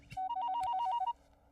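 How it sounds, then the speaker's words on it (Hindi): A phone rings with a bright electronic ringtone, a quick alternating two-note warble repeating for about a second, loud and close with no talking over it. "अभी बात ही कर रहे थे और उनका फोन आ गया"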